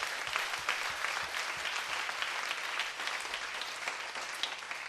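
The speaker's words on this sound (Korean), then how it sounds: "우리 박수로 하나님께 영광 드리겠습니다." A church congregation breaking into a dense, sustained round of applause, many hands clapping together at an even level for several seconds without a pause.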